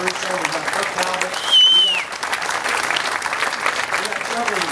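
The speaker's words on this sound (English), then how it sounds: "let me ask these guys to stand up so we can give them a round of applause" Audience applauds steadily for state legislators at a Louisiana event with the governor, dense clapping throughout, with a faint whistle and some voices mixed into the crowd.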